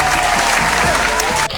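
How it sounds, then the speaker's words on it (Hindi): A round of applause rewards readers of a short Urdu sentence in a phonics lesson: full, even clapping from many hands runs continuously and then drops away sharply at the very end. "तो जिन्होंने पढ़ लिया उनके लिए होगी तालियां"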